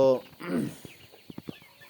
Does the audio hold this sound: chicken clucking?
yes